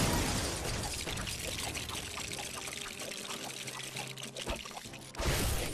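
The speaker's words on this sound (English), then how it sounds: "So we're redirecting the water from the falls" Water pouring from falls in the LEGO The Incredibles video game, a continuous splashing gush at moderate level, with a brief louder surge near the end.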